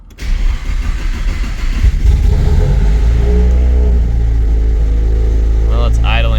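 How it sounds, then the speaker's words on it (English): A Nissan 240SX engine cranks and catches, then revs up loudly and settles into a rough, steady idle close by. "let's fire it up and see how she goes."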